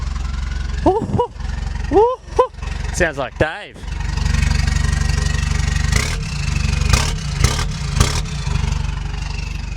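A Toyota Hilux engine with its muffler removed drones loud and steady from inside the cab on a Cape York trip, with people talking over it in the first few seconds before the raw exhaust rumble carries on alone.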